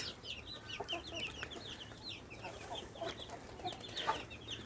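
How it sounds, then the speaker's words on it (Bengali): A flock of tiger breed chickens kept as parent stock on a farm clucks and chatters steadily, with overlapping soft calls at moderate distance throughout. "এছাড়া যে আমাদের এখানে আছে টাইগার মুরগির প্যারেন্টস"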